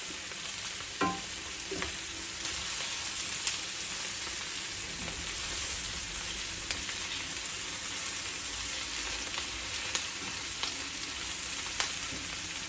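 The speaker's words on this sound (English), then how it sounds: "Make sure your breast, as much of the breast as you can, is touching the bottom of the pan so you get that good hard sear" Chicken breasts sear in a hot pan, producing a steady, quiet sizzle and crackle with a few sharper pops throughout and no talking.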